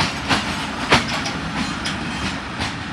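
Malkwal Express 246dn passenger train in Pakistan running on the line, a steady broadband rumble with faint rhythmic wheel clacks and a few brief sharper knocks, close and continuous throughout.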